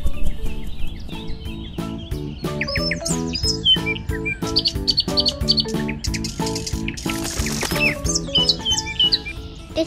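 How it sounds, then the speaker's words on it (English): A blue bird near its shelter in a tree chirps and tweets repeatedly in quick, bright bursts over steady background music, with a flurry of calls near the end. "Oh, see this blue bird flying towards its shelter."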